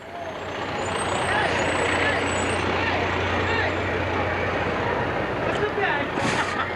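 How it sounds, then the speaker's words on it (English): A Perkiomen Township Fire Company pumper tanker fire truck rolls past in a Saint Patrick's Day parade, its steady engine rumble filling the street with a hiss and a brief high tone near the end, continuous and fairly loud. "Neighbors from Perkiomen Township Fire Company with their pumper tanker truck"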